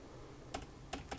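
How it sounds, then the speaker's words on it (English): A few separate key presses on a serial terminal keyboard hooked to a Brother WP-1 word processor, three faint, sharp clicks spaced irregularly over a quiet background hum. "So let's now try pressing keys on the serial terminal."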